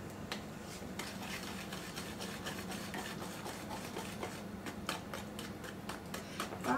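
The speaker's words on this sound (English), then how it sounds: "let me get my whisk here and get this all mixed up" A whisk beating a no-bake icebox pie mixture in a container, a quiet, steady run of rapid ticking clicks against the sides, close and faint, with no talking.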